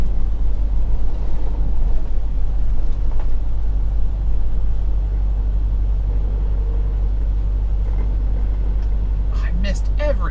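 An empty flatbed semi truck's engine rumbles low and steady as it rolls toward a stoplight while gears are missed, ending with a short hiss of air near the close, with no voice over it.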